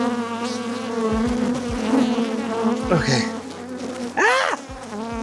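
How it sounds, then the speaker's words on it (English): Honey bees from an opened hive buzz loudly and continuously close by, with rising and falling whines as individual bees fly past; a person says a brief word during the buzzing. "Oh, these bees are not happy."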